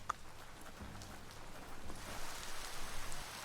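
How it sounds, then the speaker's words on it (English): Rain falls in the video game Biomutant, a soft, steady hiss of drops on surfaces that thickens gradually, faint and continuous with no voices. "And back to rainy weather again."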